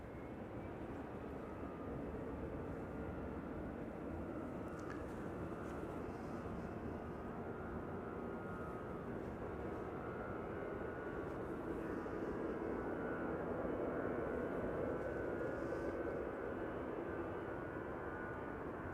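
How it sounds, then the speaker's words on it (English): An EasyJet airliner departs Schiphol on a December morning, its engines a broad, continuous roar that holds steady and swells slightly toward the end, heard from a distance with no talk. "EasyJet flight 22162 to Person-Chester will be next."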